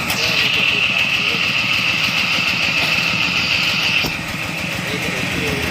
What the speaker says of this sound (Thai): ใส่รถไถมานะครับ